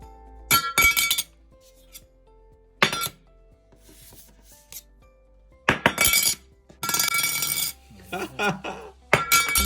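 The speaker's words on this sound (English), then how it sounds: "this being a metal card, we have to do a drop test" A metal Apple credit card is dropped repeatedly onto a hard surface, each drop ringing with a bright metallic clink and clatter, separated by quiet pauses.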